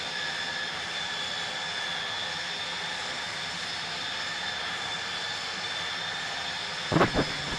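A McDonnell Douglas DC-10F cruises at altitude in the Prepar3D v4 simulator, its jet engines a steady broad roar with a constant whine, ending in a brief double clunk near the close.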